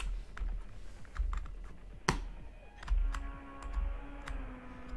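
Arrow keys tapped on a computer keyboard while playing the racing game Asphalt 9, scattered quiet clicks and presses with one sharper keystroke, over a low background hum.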